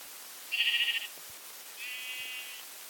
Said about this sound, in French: C'est un mouton.